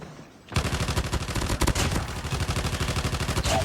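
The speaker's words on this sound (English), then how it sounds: "It's definitely louder without the silencer, which is pretty obvious." AGR 556 rifle fired without a silencer in the video game Call of Duty Mobile: after a brief quiet moment, a loud sustained automatic burst of rapid, evenly spaced shots runs to the end.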